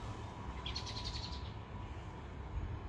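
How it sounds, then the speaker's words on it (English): On an early morning nature walk beside a massive tree, birds give a quick run of faint, high chirps that fade out, over a steady outdoor background hiss with no voices. "I can hear some birds."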